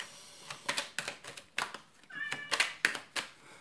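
A domestic cat meows two or three times close by indoors. The meows sit among brisk clicking and tapping noises.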